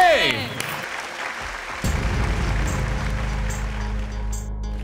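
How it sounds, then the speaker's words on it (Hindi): Loud audience applause breaks out at a bridal contest show, a dense steady roar of many hands clapping after a short musical sting, with a voice briefly heard at the start. "जोरदार तालियां"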